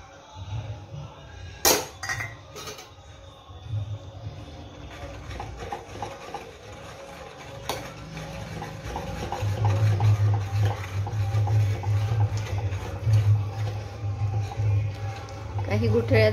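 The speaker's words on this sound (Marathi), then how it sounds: "पीठ व्यवस्थित एकजीव करून घेतलंय" A spoon stirs besan (gram flour) into water in a pot, giving a steady scraping and swishing with a few sharp clinks against the metal. Someone talks over the stirring throughout.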